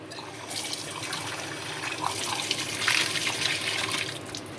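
Drinking water running from a tap to fill a pet's bowl indoors, a steady close splashing flow that brightens and swells partway through, with no talking.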